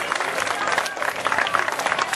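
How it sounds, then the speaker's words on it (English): Audience applause and clapping as a young boy walks up to the stage at a live alligator show, a steady dense patter of hands from a crowd filling the whole moment. "Folks, give this young man a nice big round of applause as he makes his way to the stage."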